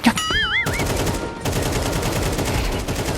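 Rapid gunfire in Counter-Strike 2, a loud sharp shot followed by sustained automatic bursts of close, dense shots with a short pause partway through.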